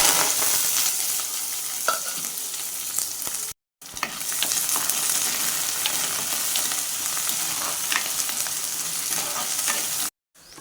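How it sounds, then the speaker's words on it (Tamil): Curry leaves and onion frying in hot oil for a fish kuzhambu, a loud continuous crackling sizzle with occasional stirring clicks, no talking, briefly cutting out twice. "கருவேப்பிலையும் வெங்காயத்தையும் போட்டுக்கலாம்."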